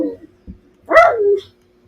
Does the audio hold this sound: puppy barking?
yes